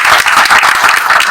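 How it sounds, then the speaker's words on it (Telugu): An audience claps in appreciation, a loud, close, continuous patter of many hands with no voices heard. "దాని చిత్తశుద్ధికి మనందరం కూడా మరి చప్పట్లు కొట్టి వారిని ఒకసారి అప్రిషియేట్ చేస్తున్నాం."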